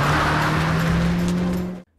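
A car in a film chase scene speeds away, its engine a loud, steady droning roar held for nearly two seconds before it cuts out sharply.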